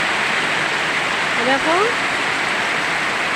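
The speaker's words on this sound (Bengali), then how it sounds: "দেখো মোহনপুরে বৃষ্টি হচ্ছে।" Rain pours down steadily in Mohanpur on an afternoon, a loud, even hiss of falling water filling the whole scene, while a voice briefly speaks over it midway.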